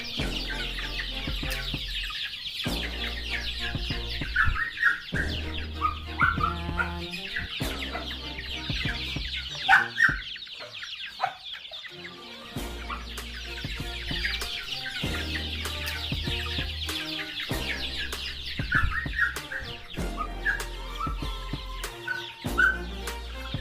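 Newly hatched chicks from a homemade incubator on a farm, a quiet, steady stream of high peeps and chirps with occasional soft clucks over a low background hum.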